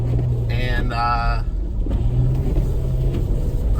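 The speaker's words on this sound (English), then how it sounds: "I'm stopped on a pretty steep hill here, spinning a little bit" Car on Cooper Discoverer AT3 4S tires spinning on a steep snowy hill, a loud, close engine drone with a brief rising whine from the slipping wheels, with a person talking over it.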